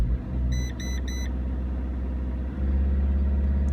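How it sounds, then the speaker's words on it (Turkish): Diesel car engine running steadily at a held 2000 rpm during a fuel pump pressure test, a loud continuous low rumble with a brief triple beep early on and a slight rise in level near the end. "Aracı 2000 devire 2000 D devire getireceğim arkadaşlar"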